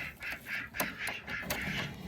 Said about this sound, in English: So we do have about 16 ducks.